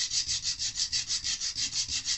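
Steady back-and-forth hand sanding on a Martin D-28 guitar part, with about a dozen even, rhythmic strokes, close and alone.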